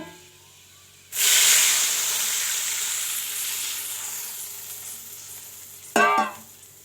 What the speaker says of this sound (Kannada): ತುಪ್ಪ ಇವಾಗ ಹಾಕ್ಕೊಂಡಿದ್ದೇನೆ 1 ಸ್ಪೂನಷ್ಟು. ಇದಕ್ಕೆ ಗೋಡಂಬಿ ದ್ರಾಕ್ಷಿ ಹಾಕ್ಕೊಳ್ತಾ ಇದ್ದೇನೆ. ಸೊ ಇದನ್ನು ಚೆನ್ನಾಗಿ ಫ್ರೈ ಮಾಡ್ಕೊಳ್ಳೋಣ.